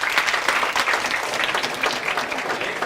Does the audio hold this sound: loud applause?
yes